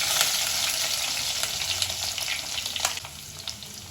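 Garlic frying in hot oil with popped mustard seeds and urad dal: a steady close crackling sizzle with scattered sharp pops throughout, alone without any voice.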